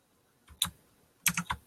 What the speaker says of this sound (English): Typing away then, Mr. Thomas.